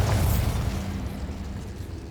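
Confringo fire spell blast in Hogwarts Legacy: a single loud, close boom that rolls into a rumbling, fading roar.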